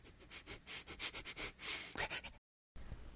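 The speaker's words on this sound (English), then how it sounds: "He sniffed the ground" A dog sniffing the ground in a read-aloud story sound effect, a quick series of soft, close sniffs in short rhythmic bursts, then a brief silence and a faint tail.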